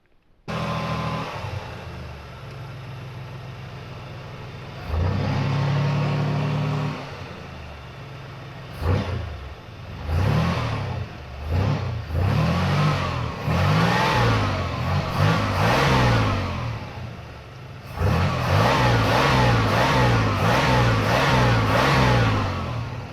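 A car engine converted from throttle-body injection to a carburetor idles, then revs up repeatedly in short throttle blips and longer sustained runs, loud and close with no talking.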